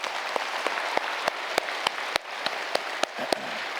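Scattered audience applause at a yoga camp, individual claps standing out in an uneven rhythm over a hissy crowd background.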